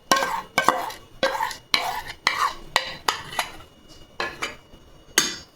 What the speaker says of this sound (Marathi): आणि हे व्यवस्थित मिक्स करून घेऊ आपण।